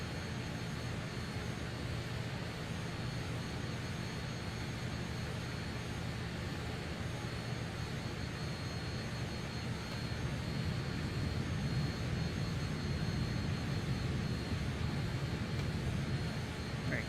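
Simulated Fokker F28 jet engines in Microsoft Flight Simulator make a steady, dense broadband roar that holds constant throughout and grows slightly louder in the final seconds, with no talking.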